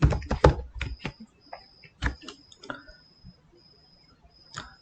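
Fingers type a folder name on a computer keyboard, a quick burst of close key clicks followed by a few slower, sparser taps and a final keystroke.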